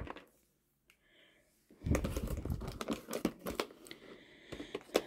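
Plastic toy packaging heavy with sellotape, holding a Godzilla vs Kong figure, crackles and crinkles as it is handled and pulled apart, in a dense run of close rustling and tearing after a quiet start.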